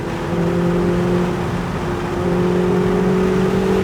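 Interior engine drone of a Lamborghini Huracan accelerating down a race track straight, a loud steady hum rising gently in pitch throughout.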